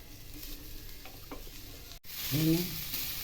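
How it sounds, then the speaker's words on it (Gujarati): Beetroot for laddu sautéing in a pan, a soft steady sizzle with a few light scrapes of stirring, then a brief break and a louder burst of frying. "હવે તેને સાંતળતા જઈએ."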